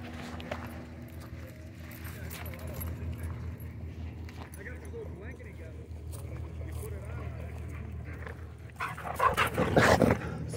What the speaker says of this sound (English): I was not expecting this many dogs in here